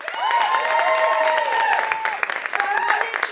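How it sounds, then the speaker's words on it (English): An audience claps and cheers for graduating students at a recital, steady clapping running under voices and cheers that rise and fall across the stretch. "let's give a quick round of applause for that"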